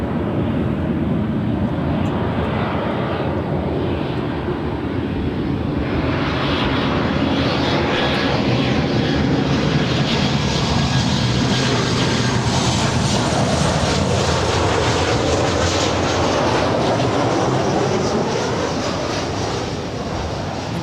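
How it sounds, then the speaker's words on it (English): United Airlines Boeing 737-900ER jet, nine years old, arriving from Las Vegas at LAX, roaring loud and steady throughout with a sweeping engine whine that rises and shifts as it passes close by. "This is United Airlines 1484 coming from Las Vegas. It's a 9-year-old 737-900 ER."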